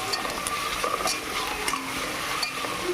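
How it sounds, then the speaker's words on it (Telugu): Green chillies, coriander and curry leaves frying in a pan for cauliflower fried rice, a continuous close sizzle with light stirring scrapes over a short stretch. "బాగా వేపుకుందాం."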